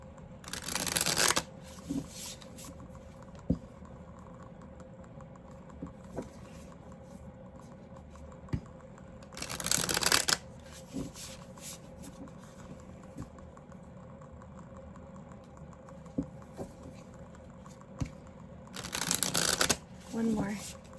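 Three bursts of cards being riffled and shuffled, several seconds apart, with quieter handling and soft rustling in between.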